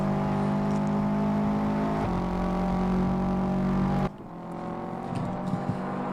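Race cars in a Toyo Tires Super Street round, engines droning loud and steady with a tonal whine, then an abrupt drop in pitch and level as they brake hard, the roar easing back up afterward.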